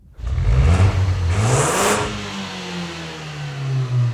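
A turbocharged 2013 Ford Focus ST engine revs up loud and close, climbs in pitch to a peak, then drops back to a steady lower drone that swells again briefly near the end.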